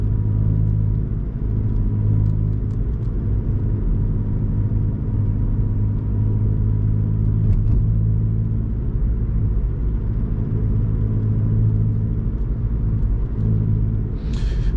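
Car cruising at 30 mph in fourth gear on a driving test route, a steady low engine and road rumble heard from inside the cabin, constant throughout with a faint click near the end.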